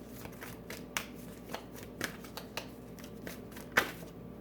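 Tarot cards being drawn and shuffled during a reading, a series of crisp riffling flicks and slaps at uneven intervals, close and fairly clear, with no voices.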